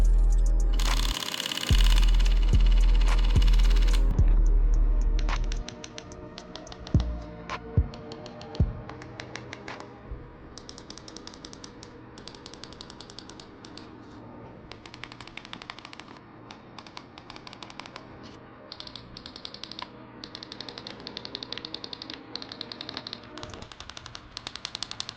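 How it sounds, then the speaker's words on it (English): Buttons and triggers on a custom-built PS5 controller being pressed, a long run of dense, rapid plastic clicks, close and crisp, after a brief louder rumble at the start. "So now I'm just gonna let this video play of me clicking on everything,"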